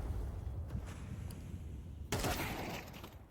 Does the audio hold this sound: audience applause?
no